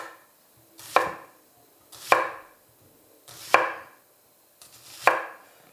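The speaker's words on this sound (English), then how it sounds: "First we're gonna make some nice rings out of the onions." Four separate knife chops through yellow onions, cutting them into rings on a board, each a sharp close thud spaced about a second apart, no voices.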